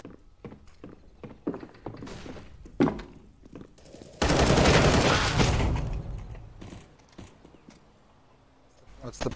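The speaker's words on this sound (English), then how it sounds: "I am throwing a flashbang" A flashbang grenade detonates in a shooter video game: one loud, sharp burst that lingers for about two seconds, set amid scattered clicks, footsteps and gunfire.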